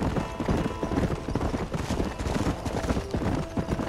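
Horse hooves clip-clop steadily in the Western video game Red Dead Redemption, a continuous brisk rhythm of close hoofbeats on a hard trail with a faint rumble beneath and no talking.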